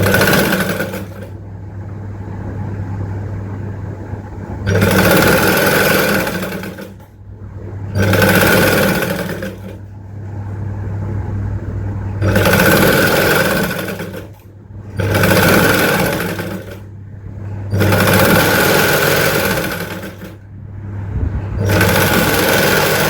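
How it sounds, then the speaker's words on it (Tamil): A sewing machine stitches fabric along a plain border with a half-inch seam, running in six steady bursts of a few seconds each, close and loud, with short pauses between runs. "இப்படி கீழே உள் சைடு வச்சு தச்சு வெளியே திருப்ப போகிறேன்"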